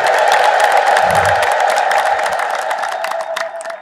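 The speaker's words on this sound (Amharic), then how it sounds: "እስኪ አንድ እልል በሉ" Crowd at a church gathering ululating together in a sustained, loud, high trilling chorus from start to finish, with scattered voices and cheers mixed in.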